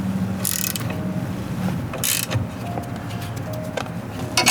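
A hand ratchet clicks in short bursts while tightening steering column bolts on a Mk3 Audi TT RS, the pawl ticking close up between brief metallic handling sounds.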